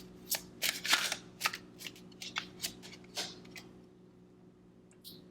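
Tarot cards being shuffled and drawn in a series of quick, crisp riffling snaps and rustles over about three seconds. A few softer card slides follow, and then comes a quiet pause with a faint tick near the end.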